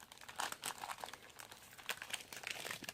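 Plastic blister packaging around an S.H. Figuarts Sennin Mode Naruto action figure being ripped open, a continuous close crinkling and tearing with sharp crackles, no talk.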